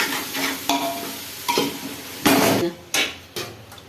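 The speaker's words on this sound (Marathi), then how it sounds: "आता बिर्याणी मसाला घालूया। चांगलं परतून घ्यायचंय।" Biryani masala stir-fried in oil in a pan for homemade chicken biryani: steady sizzling under repeated scraping strokes of a spoon against the metal pan, with sharp clanks at intervals, close and fairly loud, no talk.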